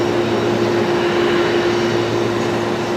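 A steady, loud jet engine roar with a constant tonal hum from aircraft taxiing at Brisbane Airport at night, continuous and unbroken, no talk.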